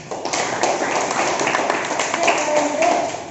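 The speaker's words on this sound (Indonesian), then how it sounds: "berikan tepuk tangan dulu deh" A classroom full of people clapping together, a steady dense burst of applause lasting a few seconds at close range.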